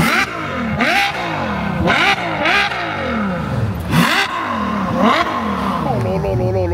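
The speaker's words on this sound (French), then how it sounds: "Les V12, ça reste quand même le meilleur moteur qui puisse exister." A Ferrari V12 engine revs high, rising and falling through several sharp throttle blips, loud and close, with a rich twelve-cylinder howl between revs.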